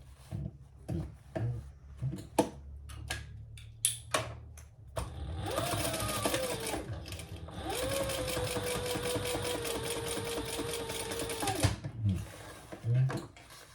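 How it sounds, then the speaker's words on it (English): Sewing machine topstitching across a fabric crossbody bag, a steady close whir in two long runs of several seconds, with clicks and handling noises before and after. "let's turn that right side out and top stitch across that as well"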